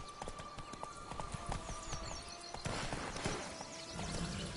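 A horse's hooves clip-clop at a steady, lively gait in The Witcher video game. The hoofbeats are fairly quiet and are heard alone, with no talk over them.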